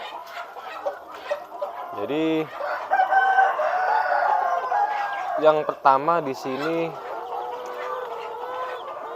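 Lohmann pullet hens around 17–18 weeks old, starting to lay, give repeated nearby clucks and short crows, and someone talks over them throughout.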